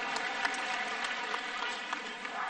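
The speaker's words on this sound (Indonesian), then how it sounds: "Beri tepuk tangan untuk seluruh jajaran Amanat Indonesia." Steady, fairly distant applause from a large crowd at a political speech event in Senayan, Jakarta, a continuous even wash of clapping without voices on top.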